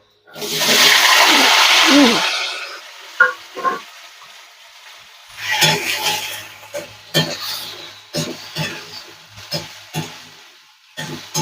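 Potatoes go into hot mustard oil with panch phoron, a loud burst of sizzling for a couple of seconds, then scattered clanks and stirring bumps over a quieter frying hiss.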